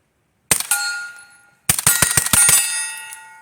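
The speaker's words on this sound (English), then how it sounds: "These were stupid quiet in my suppressed AR-9" A suppressed AR-9 with a Blowback 9 gentle recoil system fires hand-loaded 9mm subsonic rounds: a single sharp report with a metallic ring, a pause, then a quick string of several close, quiet shots with ringing metallic clanks.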